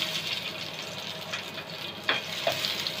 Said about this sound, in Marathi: लसूण थोडासा गुलाबीसर होईपर्यंत आपण भाजून घेऊयात आधी।